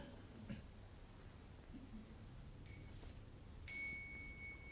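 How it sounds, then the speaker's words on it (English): A small meditation bell is struck once near the end of a quiet session, ringing out clearly and fading slowly, after a fainter earlier tone; the room is otherwise hushed. "we can have a small sound of the bell, the little bell"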